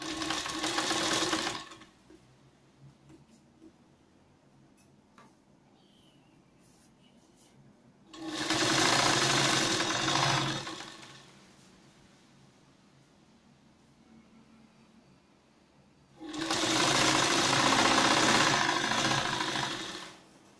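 Sewing machine running three times in bursts of about two seconds each, stitching a topstitch along the edge of a katori blouse lining turned to the inside, with quiet pauses between runs.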